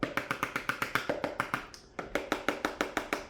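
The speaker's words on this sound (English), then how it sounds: "and just knocking the chocolate that's on the fork" A fork taps rapidly and rhythmically against a bowl or pan edge to knock off melted chocolate while making chocolate monster treats; about a dozen crisp close clicks, a brief pause, then another even run of taps, with no talking.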